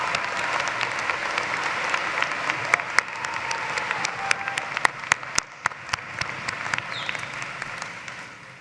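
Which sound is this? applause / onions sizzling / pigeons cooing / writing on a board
applause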